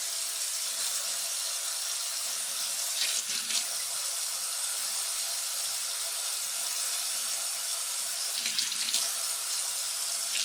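Tap water runs steadily into a sink while rinsing out a cleaned pompano before it is breaded in panko and fried, a continuous close hiss and splash with brief louder surges and no talking.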